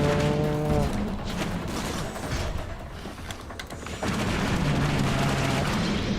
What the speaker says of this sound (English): Get wrecked by my explosion, sir.